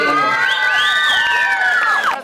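A show audience whoops and cheers for a singer, with high shrill voices rising and sliding over one another in a loud, continuous burst.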